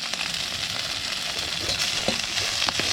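Fresh-caught squid sizzles loudly in a hot frying pan, a dense close crackle with a few brief scrapes over it, and no voices.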